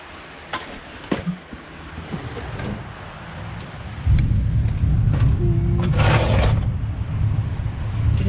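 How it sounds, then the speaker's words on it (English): Distant thunder rumbling outdoors near a garage where a Morris J2 van clutch is being worked on, a low swelling roll that grows louder and sustained halfway through, with wind noise and light clanks. "can hear a bit of thunder, sorry about the noise."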